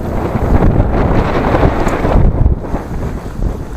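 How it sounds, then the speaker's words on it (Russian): Loud gusting wind buffets the microphone in rough, rumbling bursts that rise and ease over a few seconds. "Даже ветер попутный вроде стал."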